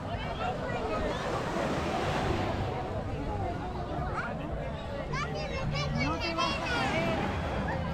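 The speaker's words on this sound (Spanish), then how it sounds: "Y el mar que tranquilo." Calm sea waves wash steadily onto a Riviera Maya beach at sunset, a continuous soft surf with wind rumbling on the microphone and people chatting and children playing nearby.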